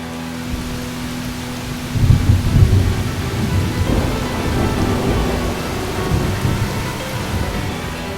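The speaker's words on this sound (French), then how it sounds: "Ce soir-là, il y a eu un gros orage." A heavy night thunderstorm: steady pouring rain with deep rolling thunder that swells early and keeps rumbling beneath the downpour, loud and continuous.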